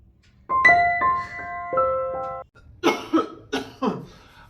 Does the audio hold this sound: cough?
yes